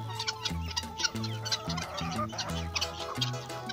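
Chickens cluck nearby in short repeated bursts, several birds overlapping against a faint outdoor background.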